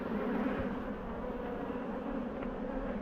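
Honeybees buzz at a hive in a dense, continuous drone, close and steady throughout with no voices.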